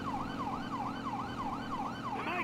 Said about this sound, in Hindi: वो शायद उनको सायरन सुनाई नहीं दे रहा